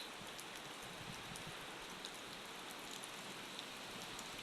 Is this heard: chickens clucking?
no